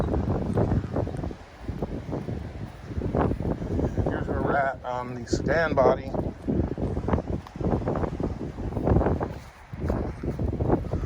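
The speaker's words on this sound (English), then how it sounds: "Excuse the wind, as usual." Someone speaks over heavy Oklahoma wind buffeting the microphone in gusty bursts beside a Plymouth Cricket sedan with its doors off, the roar rising and falling throughout.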